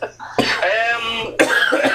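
Two harsh, close coughs in quick succession, each a sharp burst with a raspy tail, the first trailing into a longer throaty sound before the second hits.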